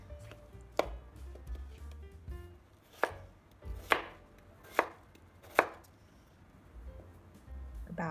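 A knife cuts peeled potatoes into chunks on a board for a Thai massaman chicken curry, about seven distinct chops spaced unevenly over a quiet background, close and alone.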